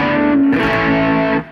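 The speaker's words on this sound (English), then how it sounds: "It's the only distortion I've found that is better than my overdrive channel on my amp actually." Guitar distorted through a G2D Standard custom overdrive pedal plays a thick, saturated sustained chord that rings steadily for over a second, then drops off abruptly.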